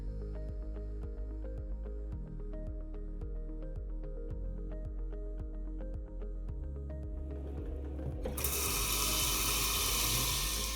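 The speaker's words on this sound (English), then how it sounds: "First things first on my list will be to fill a pot with 2 liters of water." Water running from a kitchen tap into a pot, first as a rising, gurgling fill with rhythmic plinks, then a broad loud rush near the end, close and without talk.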